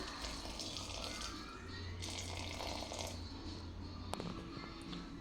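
Water is poured into a pot of palak kichidi with a soft, continuous splashing and trickling, fairly quiet and close, ending with a faint clink.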